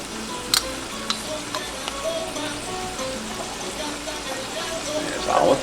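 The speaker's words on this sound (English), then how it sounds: "add a couple of teaspoons of minced garlic" Minced garlic sizzles steadily in a pan with olive oil as the base of arroz con pollo, a soft continuous crackle with faint scrapes and a brief louder hiss near the end.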